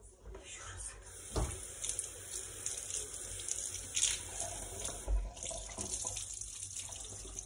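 Water runs from a kitchen faucet into a sink in a steady hiss with occasional clunks and splashes, while a person talks faintly in the background.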